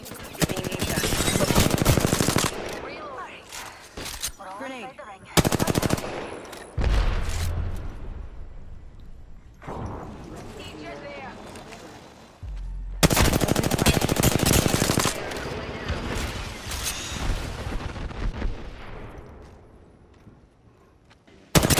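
Bursts of rapid gunfire fill a video game firefight, loud clattering volleys in several long stretches separated by brief lulls, with other shots and effects mixed in.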